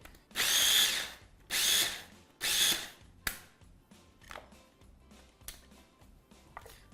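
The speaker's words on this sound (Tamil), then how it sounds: "நீங்கள் ரெகுலராக ஆன்லைனில் கூட ஒரு சாப்பர் கிடைக்கும் அதை புல் பண்ணுற மாதிரி" A hand-pulled vegetable chopper whirring in three loud, quick bursts of about half a second each, close by, followed by softer clicks and light knocks as it settles.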